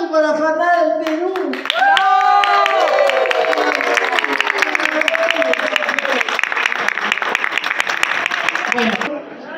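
Audience applause for a Peruvian organization at a tribute and farewell event in New York, a dense wash of clapping that swells and holds steady for several seconds, mixed with overlapping voices and cheering from the crowd.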